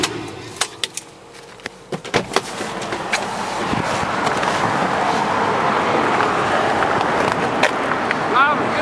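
A 2006 Volkswagen Jetta TDI drives along, a few sharp clicks and knocks early giving way to a rising, steady wash of road and engine noise that stays loud and close to the end.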